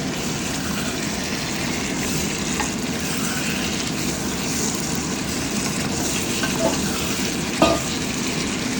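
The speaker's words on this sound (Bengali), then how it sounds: "এখন আমি একটা আলু দিয়ে দিব। আলুটাকে সুন্দর মতো কষিয়ে নেব।" A large potato sautéing with chicken in a pan produces a dense, even bubbling sizzle up close, with faint stirring clinks near the end and no talking.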